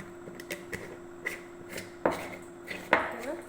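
Wild gooseberries being mixed with sugar for candy, heard as a series of sharp, close clacks and scrapes of a spoon against the bowl, irregular and growing louder toward the end.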